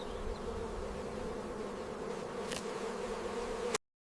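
A steady, low insect buzz of bees hums continuously near the listener, a faint drone with one brief louder flicker, ending abruptly.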